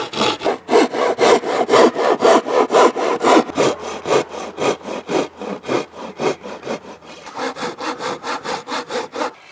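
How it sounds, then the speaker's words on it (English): A Japanese pull saw cutting through wood in a shed, with steady rhythmic rasping strokes about twice a second, loud and close, briefly pausing before a quicker run of strokes. "I can now use my Japanese pull saw to do the rest"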